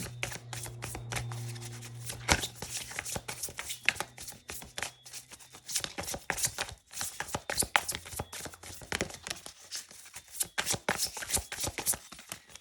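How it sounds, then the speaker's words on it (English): Tarot cards are shuffled by hand in a quiet room, with rapid riffling and slapping bursts that come close and fairly loud in uneven clusters. "I've got to pull another 2 cards for you guys."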